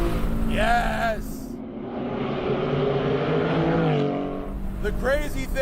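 A Porsche engine drives past loudly, building to a broad sustained roar in the middle after brief bursts of talk at the start and end.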